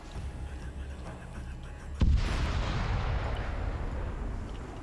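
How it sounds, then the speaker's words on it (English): A single sudden blast in a video game erupts from a quiet hum, then trails off into a long, loud rumbling wash of debris and noise. "any moment now, we're going to start seeing some explosions"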